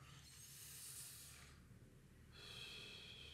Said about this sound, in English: That is also hyperventilation.